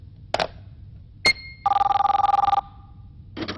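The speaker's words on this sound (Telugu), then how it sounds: "అది ఫోన్ కాదు, ఫ్యాక్స్" A fax machine in an office rings: a short chirp, a brief two-tone beep, then a long warbling electronic trill of rapid pulses, followed by another burst starting, loud and close with no talking.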